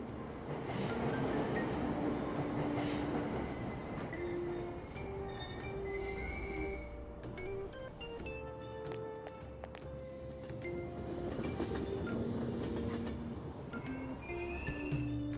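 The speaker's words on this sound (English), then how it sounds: "Ride the train." A train rolls along the rails in Persona 5 Royal, with a steady rumble of wheels, occasional squeals and clatter, close and continuous throughout, under background music.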